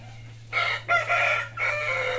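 Chickens on a small farm cluck and let out loud squawking calls in two close bursts with a short gap between them, over a low steady background hum, with no talk.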